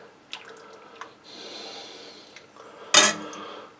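Creamy tuna soup ladled from a pot onto a plate in a home kitchen: a few light metallic clinks and drips, a soft wet pouring stretch, then one louder close clatter of utensil against the dish.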